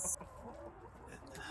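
Big, hardy dual-purpose chickens that lay large brown eggs, clucking softly and at a distance through a busy outdoor background, with a short sharp call at the start.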